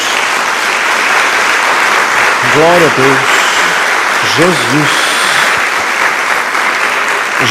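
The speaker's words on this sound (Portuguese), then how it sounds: "Dê uma salva de palmas a Jesus" A church congregation's applause for Jesus during a worship service fills the space with a loud, continuous wash of clapping while a voice calls out over it.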